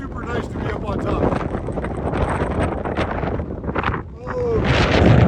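Strong wind roars across the microphone on an Island Park mountain top, steady and loud with gusts building toward the end; a voice speaks briefly underneath.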